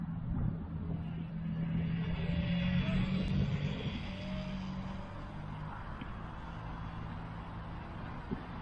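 A tiny lightweight Fei Xiong FX803 Piper J-3 Cub 2CH 320mm EPP RC airplane flies outdoors in wind, its small motor giving a steady, continuous drone that swells and eases slightly as it passes.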